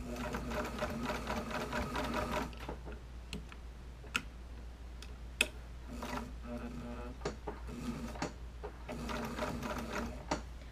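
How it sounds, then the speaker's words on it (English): A sewing machine stitches trim onto a bra in short runs of rapid mechanical whirring, broken by pauses with ticks and clicks as the presser foot is adjusted. "Now I'm going to have to raise this presser foot up just a little bit to get over this hump of trim."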